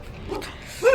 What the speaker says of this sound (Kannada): ಇಲ್ಲಿ ನೋಡಿದ್ರೆ ನಾಯಿ ಇದೆ, ಫುಲ್ ಬಾರ್ಕ್ ಮಾಡ್ತಾ ಇದೆ ಇಲ್ಲು.